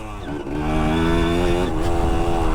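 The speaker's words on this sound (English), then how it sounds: "Doesn't that sound great? It was an enduro bike." A vintage enduro motorcycle engine runs steadily nearby, its tone rising into a strong, even drone after a brief lower start.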